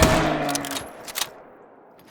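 A single loud rifle shot at a deer in the hunting game theHunter, with a sharp crack at the start that rings out and decays over the next second, followed by a faint distant thud.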